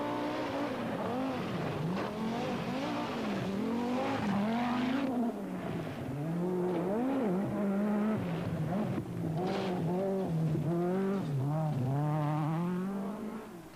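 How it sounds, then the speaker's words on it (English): Powerful 1986 Group B rally cars race through a Welsh forest, their engines snarling and wavering as they rev up and down, loud and close for the whole stretch. "Back in the forest, the powerful, spectacular Group B cars, so threatened in the current troubled climate of the sport,"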